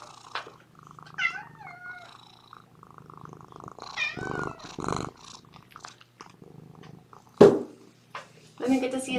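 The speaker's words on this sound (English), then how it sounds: "Do you hear you hear him purring?" A kitten purrs with a low, steady rumble close to the microphone, broken by soft mouth sounds and a voice talking over it.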